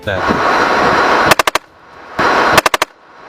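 Two short bursts of machine-gun fire from a T-72 tank's coaxial 7.62 mm PKT machine gun, each four rapid sharp shots following a roaring rumble, loud and close.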